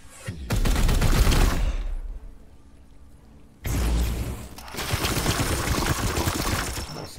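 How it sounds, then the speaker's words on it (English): Support gunfire in Warhammer 40k: Chaos Gate - Daemonhunters comes as two long, loud volleys of rattling automatic fire with a quiet gap between them, heavy and close with a booming low end. "More support fire, I like it."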